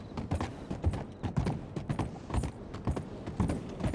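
Horse hooves trot in a steady clip-clop rhythm through Red Dead Redemption 2, close and clear with faint creaks of tack between the beats.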